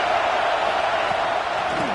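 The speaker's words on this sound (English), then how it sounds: "This crowd bringing the energy and noise early." Steady roar of a football stadium crowd at an FCS Southeast versus Georgia game, a dense continuous wash of distant cheering and noise filling the whole stretch, with a voice faintly underneath.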